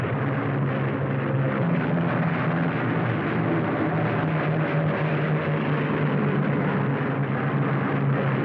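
Engines of a bomber squadron taking off make a dense, continuous droning roar, loud and steady throughout with a constant low hum and no talking.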